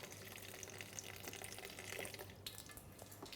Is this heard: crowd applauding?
no